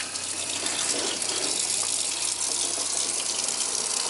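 Water runs steadily from a tap fed by fresh water tanks in a school bus tiny house conversion, a loud continuous splashing hiss with no pauses.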